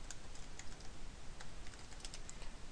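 Code being typed on a computer keyboard, soft irregular key clicks in quick runs, faint and close with a low background hiss, no talk.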